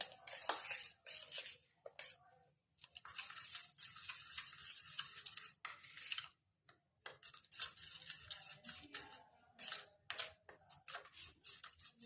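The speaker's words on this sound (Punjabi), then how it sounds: "ਲਾਲ ਮਿਰਚ ਨੂੰ ਆਪਾਂ ਪਾਣੀ ਪਾ ਕੇ ਮਿਕਸ ਕਰ ਲਵਾਂਗੇ" A spoon stirs red chili powder mixed with water in a small bowl, giving quiet, irregular clinks and taps against the dish with brief pauses, close and faint.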